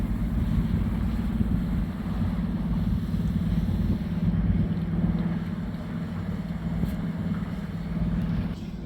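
A sailboat motors under its engine across a flat, windless sea, producing a steady, unbroken low drone with a faint wash of air and water around it and no talking.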